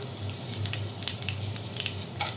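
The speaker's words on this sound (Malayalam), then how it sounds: "അതിനുശേഷം അതിലേക്ക് കാൽ ടേബിൾ സ്പൂണോളം ചെറിയ ജീരകം ചേർത്ത് കൊടുക്കാം" Cumin seeds sizzle in hot oil for tomato rice: a steady close frying hiss scattered with quick crackling pops.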